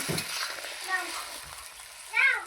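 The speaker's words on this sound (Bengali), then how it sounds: "দেখুন ঝোল আমার টকবক করে ফুটে গেছে। আমি এখন ভেজে রাখা কোপ্তাগুলো দিয়ে দিব।" Jackfruit koftas go into a bubbling curry gravy, with a soft simmering hiss and a few faint sizzling bursts, fairly quiet overall and without speech.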